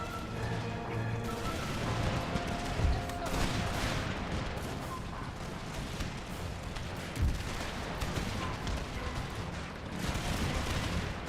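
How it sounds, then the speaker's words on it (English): Musket volleys crack out in an Empire: Total War battle, Empire 2 mod, with an Indian invasion: repeated dense bursts of firing over a constant din of battle, with a few sharper heavy impacts. "Start engaging the general staff with musket shots."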